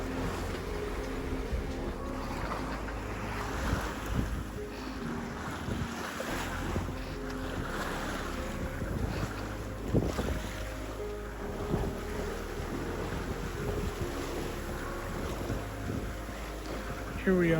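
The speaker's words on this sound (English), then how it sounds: "Here we are about a week and a half later, sailing off of the Racine Shoal" A sailboat runs off Racine Shoal with steady wind buffeting the microphone, water sloshing and waves slapping against the hull, and faint creaks and knocks from the boat throughout.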